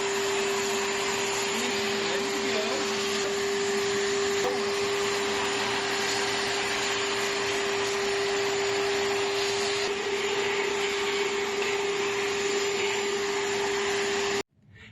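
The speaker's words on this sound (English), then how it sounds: "So now that we've got that vacuumed out" A vacuum cleaner runs close and loud with a steady whining motor drone for the whole stretch, then switches off at the very end.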